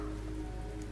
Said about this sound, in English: I even got the rain sounds on in the background, because it's also been raining a lot over here.